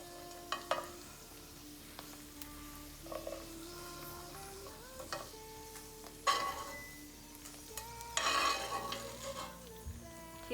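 Cashew nuts fry in ghee in a pan over a low flame, a soft sizzle under repeated light clinks and scrapes of a spoon stirring against the metal.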